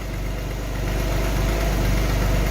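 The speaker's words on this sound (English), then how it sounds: "Engine sounds pretty good. Do hear a little bit of a knock, but that's probably just because the engine's really cold." A cold Alfa Romeo GTA engine, on an old Sportwagon, idles steadily with a faint rhythmic knock, a loud continuous low-pitched rumble throughout.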